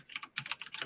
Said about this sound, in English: If you hear Bear typing a lot in the background, it's because we might have a special guest.